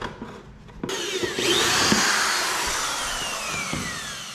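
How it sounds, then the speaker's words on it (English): A power drill whines loudly and steadily, its pitch shifting as it bites into metal while drilling out rivets on a Yamaha YFZ, with a few clicks and knocks underneath. "next the directions say drill out these rivets"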